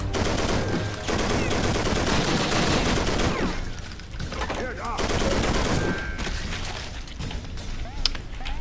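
Sustained MG 42 machine gun fire in the Wolfenstein castle game, a loud continuous rattle with dense bursts, briefly easing around the middle and then resuming.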